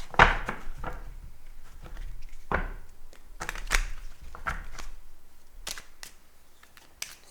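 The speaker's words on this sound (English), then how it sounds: "I need to shuffle a little bit more." Tarot cards being shuffled by hand, with irregular soft riffles, slaps and taps spaced a second or so apart in a quiet room, no talking.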